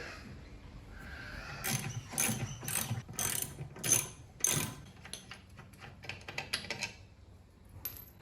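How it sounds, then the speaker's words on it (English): A ratchet with a 12 mm socket works the bolts off the starter of a Victa two-stroke mower, giving bursts of close, rapid clicking with pauses between them and no talk. "So the next thing to do is to take our starter off, and this will use our 12mm socket."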